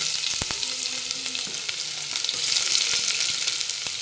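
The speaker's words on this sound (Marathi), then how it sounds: "आता आपण हा चिरलेला कांदा टाकून घेऊ." Chopped onion frying in hot oil for a spicy mutton vada recipe, a steady hissing sizzle with several sharp ticks and pops from the pan, close up and uninterrupted by voices.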